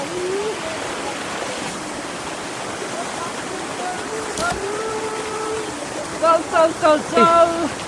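A mountain stream in Nepal rushes steadily in the background, a broad continuous watery roar, with short bursts of voices and calls near the end.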